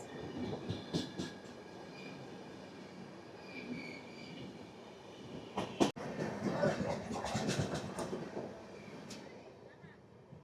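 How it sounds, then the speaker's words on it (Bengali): The Sealdah–Bikaner Express passes close by a halted train, giving a loud, sustained rumble of rolling railcars with wheel squeal and clattering bursts throughout. "আর এই হচ্ছে শিয়ালদা বিকানের এক্সপ্রেস"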